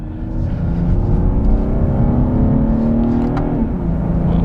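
A 2020 BMW M340i B58 engine in Sport mode revs loudly and steadily, pitch climbing then dropping briefly at a manual gear change before rising again, with exhaust pops, heard from close inside the car.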